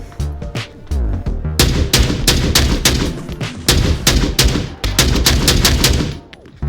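Rapid bursts of AK12 rifle fire in the VR shooter Onward, loud, close and sharp, coming in quick repeated volleys of single shots with short gaps between, and no talking.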